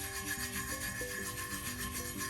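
A steady, soft rubbing on the surface of a drip-decorated tumbler, a close, quiet, continuous friction sound with slight rhythmic swells and no talk.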